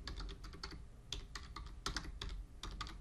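Quick, light keystrokes on a computer keyboard as a web address is typed in, close and quiet, with a steady run of clicks broken by a few short pauses.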